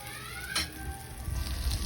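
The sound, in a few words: upo omelette and shrimp frying in hot oil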